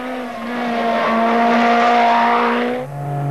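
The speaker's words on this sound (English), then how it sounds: "A Lancia Delta S4." Lancia Delta S4 rally car at Pikes Peak, a loud sustained engine note holding steady then dropping in pitch near the end, as if passing close by.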